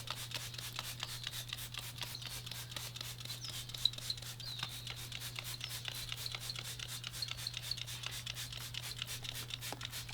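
Steel wool scrubs rust off the faded chrome bumper of a 1977 Ford F250, a steady fast rasping back-and-forth rub close up, with a constant low hum underneath and no talking.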